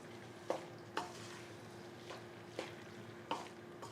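Tender jackfruit masala curry with curry leaves and freshly ground fennel is stirred in a pan, a spoon knocking and scraping at a slow, irregular beat over a soft, constant background hum.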